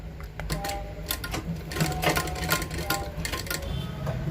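A sewing machine stitches a coat collar with close, busy clattering and uneven rhythmic needle strikes, running in short bursts that stop and restart.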